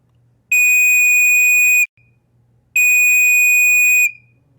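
A Pyrotronics FB1A pyrotector smoke alarm sounds two long, very loud, steady high-pitched tones, each lasting over a second, separated by a short gap with faint hum between them.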